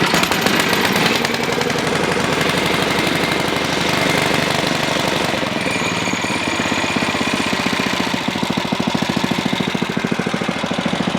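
An Ariens 11528 snow blower with power steering starts up and runs with a loud, steady, rapid engine chatter that holds for about eleven seconds without a break, close to the listener, with no talk over it.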